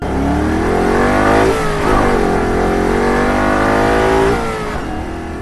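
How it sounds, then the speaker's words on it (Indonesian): A motorcycle engine revs hard and climbs through the gears, loud and close, its rising and falling whine holding steady for several seconds before easing slightly at the end. "ia meloncat ke atas motor dan menyalakan mesin. Mesin menyala, ia langsung tancap gas"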